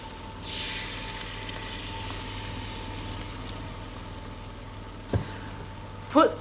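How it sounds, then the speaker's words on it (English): Continuous crackling sizzle of Yorkshire pudding batter frying in hot oil, fairly close and steady, ending with a couple of brief knocks. "Can you hear it sizzling?"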